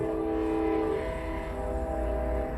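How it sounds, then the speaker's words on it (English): A train horn sounds steadily, layered tones holding throughout alongside rumbling rail noise, fairly close and loud. "Never get tired of train horns."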